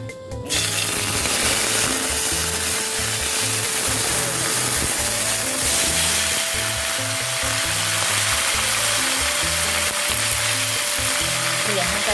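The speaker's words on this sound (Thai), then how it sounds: "ตั้งน้ำมันให้ร้อนนะคะ แล้วก็ เราก็เอากระหล่ำปีที่เราเตรียมไว้นะคะ" Loud, continuous sizzling of cabbage stir-frying in hot oil, with scraping and stirring noises throughout; no speech.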